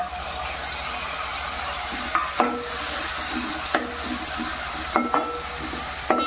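Garlic-ginger paste, green chili and tomato frying in a pan for a cluster bean and potato dish, giving a continuous dense sizzle with a few scattered spoon scrapes and knocks. The sound is close, and no one speaks.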